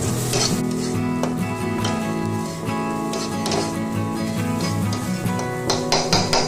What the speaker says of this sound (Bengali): এবার আমি শুটকি মাছটাকে হালকা করে একটু ভেজে নেব।